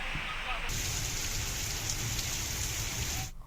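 Heavy, continuous rain pours down on surfaces in a waterlogged residential area, a dense steady hiss that shifts in tone partway through and cuts off at the end.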